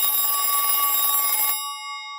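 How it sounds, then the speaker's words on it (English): An old-fashioned telephone bell in a tavern radio comedy rings loudly and steadily for about a second and a half, then cuts off, leaving a faint lingering tone. "listen to that, the phone."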